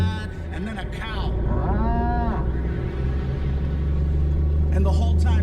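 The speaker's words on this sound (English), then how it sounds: "And then a cow." A cow moos in a banda song playing from a laptop: one drawn-out, wavering moo over the music, with a steady low engine rumble underneath.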